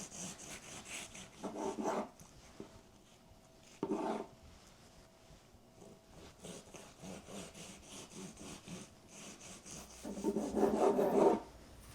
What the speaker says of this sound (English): now I'm going to just start cutting this into slices